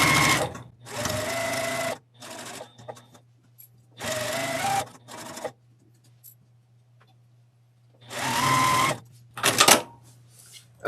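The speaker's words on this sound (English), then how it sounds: "we will sew rows 3 and 4 together now. Just feeding them through one after the other" Sewing machine stitching quilt rows together in quick bursts, four runs of rapid needle clatter separated by pauses with a low motor hum between.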